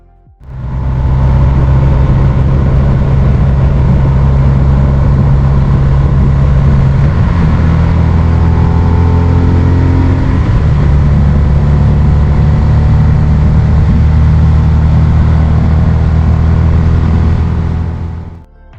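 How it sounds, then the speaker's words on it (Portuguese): Vehicle engine straining at 4,700 m altitude in the Atacama Desert, a loud continuous low drone heard from inside, with pitch shifts around seven and ten seconds as it holds a steady load, no voices. "é possível perceber a diminuição de potência do motor"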